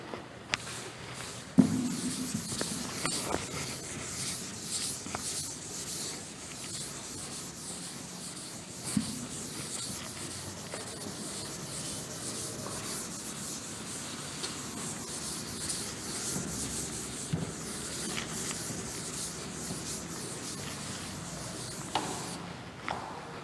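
Steady pen or marker writing on a surface, a soft continuous rubbing and scratching with occasional taps, quiet and close over a long stretch without speech.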